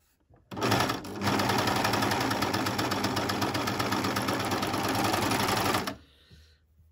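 Sewing machine stitching and trimming T-shirt fabric, a rapid steady mechanical chatter running close by for about five seconds before stopping, with brief quiet moments before and after.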